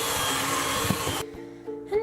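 An electric hand mixer runs on low while powdered sugar is beaten into pumpkin cream cheese frosting, a steady motor whir that cuts off partway through, leaving quieter scraping and clatter.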